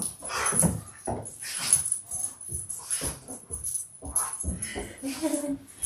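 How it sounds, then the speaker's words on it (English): A puppy whimpers and whines in soft, short cries at a leather bag making studio, close by, with occasional speech and light handling noises around it. "Look at this puppy dog."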